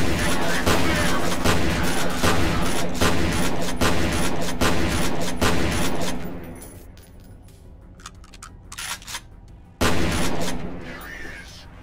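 Gunfire in the video game FEAR cracks out in rapid, loud bursts for several seconds before thinning to scattered single shots, followed by one more sharp blast and a brief flurry.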